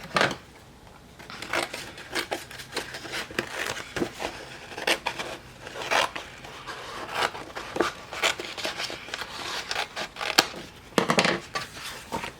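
Scissors snip through a thin paper divider in a mini planner, a series of short crisp cuts and rustles in irregular bursts, close and fairly quiet with no talking.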